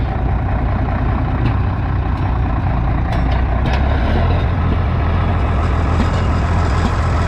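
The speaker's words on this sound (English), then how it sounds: "We'll let this thing sit here and thumps for a minute." A heavy Minneapolis Moline G707 tractor engine, started after sitting parked for 13 years, idles steadily with a deep, continuous low rumble, loud and close, running alone without voices.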